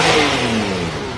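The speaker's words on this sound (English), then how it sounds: "Oh, the Mustang sounds good." A Ford Mustang engine revving nearby, a loud continuous roar that holds steady and eases slightly over a brief moment, with no talking.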